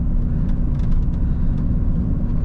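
A lowered stance Peugeot 206 CC 1.6i 110 pulls away, a loud steady low engine drone with road rumble filling the cabin, continuous and close, with faint ticks above and no talking.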